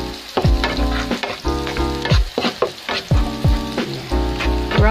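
Garlic fries in a pan for a tofu and kangkong dish. A close, loud sizzle is broken by repeated scraping stirs, with no talking.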